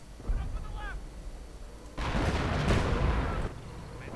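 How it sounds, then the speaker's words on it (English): Artillery fire in a World War II strategy game set among bocage hedgerows, with a loud sustained burst of booming, rumbling blasts in the middle, preceded by quieter thumps and brief whistling sounds. "And now artillery just flying through the air."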